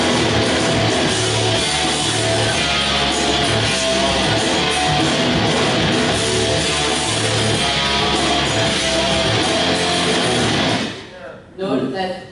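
Hard rock song with guitar and drums playing loud and dense throughout, a steady pounding beat under thick distorted guitar, cutting off abruptly near the end.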